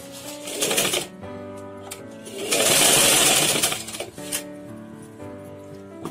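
A sewing machine stitches piping onto a sleeveless umbrella frock in short bursts, with one longer run in the middle between brief, quieter starts and pauses.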